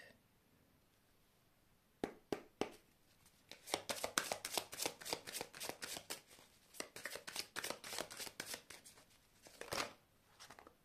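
Oracle cards are shuffled by hand in quick, papery riffling bursts, with a few isolated snaps at the start and end as some cards jump out of the deck; close and fairly quiet, with no voices.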